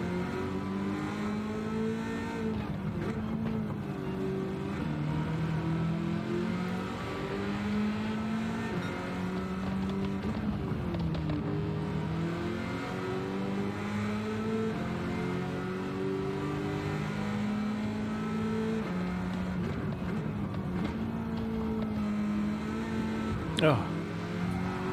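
Chevrolet Camaro race car engine in Gran Turismo 7, a sustained droning roar rising and falling through gear changes on a track run, heard under steady commentary from a player.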